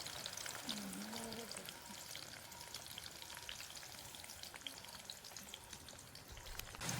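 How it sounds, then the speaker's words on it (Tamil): Steady crackling sizzle of raw jackfruit chips frying in hot oil, continuous and close throughout, with a few faint stirring clinks. "கொஞ்சம் கொஞ்சமாக நான் போட்டு பொரிக்க போகிறேன்."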